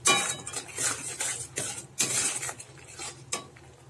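Spices with ground coriander and salt are stirred and sautéed in a pan, repeated scraping strokes of a utensil in a steady rhythm over a soft sizzle, close and clear with no talking.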